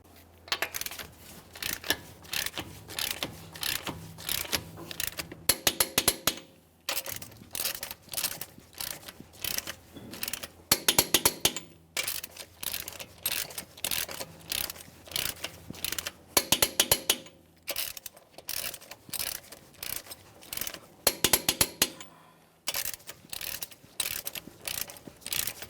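A torque wrench tightens the wheel lug nuts on a 2015-2020 Ford F-150 in a crisscross pattern, sharp rapid ratcheting clicks in repeated bursts with short pauses between nuts, close and crisp.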